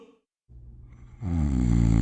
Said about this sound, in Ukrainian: Тільки біда заснула, захропіла.